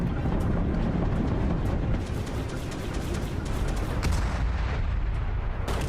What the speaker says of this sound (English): I'm not sure how there's explosions in space